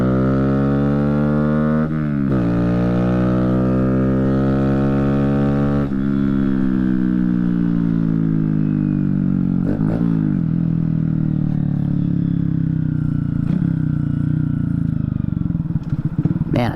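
A 2022 Honda Grom fitted with aftermarket exhaust and air intake mods revs loud and close, its rasping engine note rising and falling through repeated throttle blips with a clattery edge.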